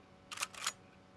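Pump-action shotgun racked in the Chernobylite video game, a quick two-part mechanical clack, back and forward, short and crisp against faint background hum.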